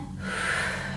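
A deep inhale through the nose during a guided breathing and energy routine, a single close, steady airy breath lasting about a second.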